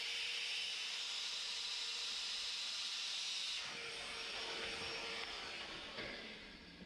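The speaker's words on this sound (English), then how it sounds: "Blew the vacuum cleaner through there and you can see water came out." A vacuum cleaner blows air through a kayak hull (Vibe Yellowfin 120): a loud, steady rushing hiss through the hollow space, shifting tone partway through and tapering off at the end.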